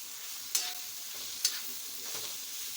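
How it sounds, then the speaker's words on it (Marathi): Mutton masala with onion roasting in a pan until reddish, giving a soft steady sizzle with two sharp scrape or stir clicks and a fainter third, no talking. "असा लालसर होईपर्यंत थोडा वेळ भाजून घ्यायचा व्यवस्थित भाजून घ्यायचा"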